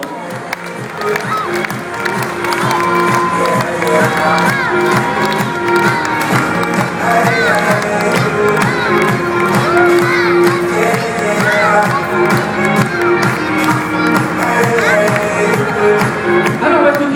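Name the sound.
audience applause and cheering at a fashion show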